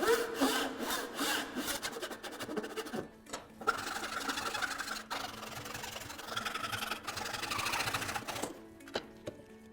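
Saw cutting a clamped wooden workpiece for a dovetailed box, a rapid rhythmic rasping of strokes, close and fairly loud, with brief pauses partway through before the cut finishes, no talking.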